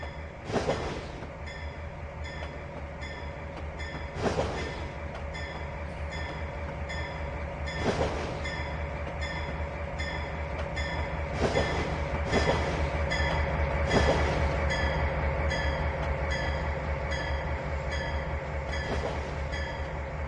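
A simulated train rolls through a large yard junction on the Tidewater Railroad in Trainz 2019, giving a continuous rumbling roll with periodic wheel clacks over joints and faint squeals, steady and moderately loud.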